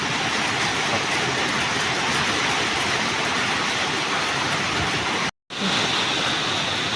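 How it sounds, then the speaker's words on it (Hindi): Heavy rain pours down with large hailstones, a loud, dense, unbroken roar of falling water and ice that cuts out for a split second near the end before resuming. "इतनी मोटी मोटी ओले पड़ रहे हैं।"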